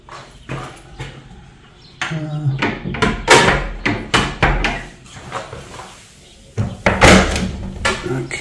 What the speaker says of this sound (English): Can I work out how to open the door here?